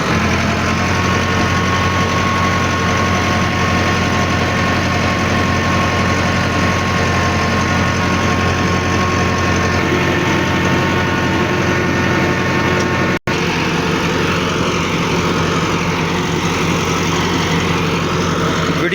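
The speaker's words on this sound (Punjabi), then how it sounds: "ਇਸ ਟਾਈਮ ਇਹ ਟਰੈਕਟਰ ਜਿਹੜਾ ਜੀ 1300 ਦੀ ਰੇਸ ਤੇ ਚੱਲ ਰਿਹਾ ਵਾ ਜੀ।" A Millat 375 tractor engine runs steadily at 1300 rpm driving a 60-blade rotavator, a loud, continuous low diesel drone with constant vibration that cuts out briefly for an instant before resuming, with no talk.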